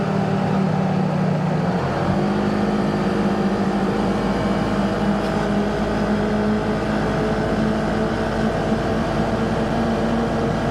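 A Polaris Ranger XP 1000 UTV with a front windshield cruises at about 50 mph, its engine and wind roar forming a loud, constant rush with a steady drone that holds unbroken throughout.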